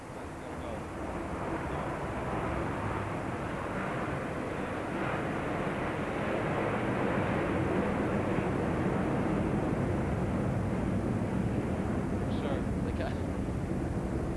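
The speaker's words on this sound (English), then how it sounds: "There's a plane going over and he can't." A plane passes overhead during a 1984 US Open semifinal tennis match, a steady broadband roar that holds loud and even throughout, with faint crowd murmur mixed in.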